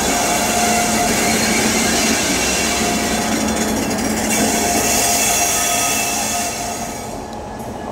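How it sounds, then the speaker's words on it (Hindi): Electric locomotive detached from a passenger train at Madurai rolls away along the rails, a steady loud rumble of wheels and rail noise that holds for several seconds before easing off slightly at the end. "वो जा रहा है अपना इलेक्ट्रिक लोकोमोटिव"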